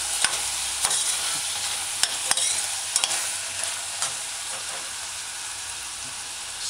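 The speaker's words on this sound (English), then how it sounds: "you use your cooking spoon and stir fry" Ground garlic stir-fried in a pot on a medium-low stove, a continuous loud sizzle punctuated by repeated sharp knocks and scrapes of a cooking spoon against the pan, close up with no voices.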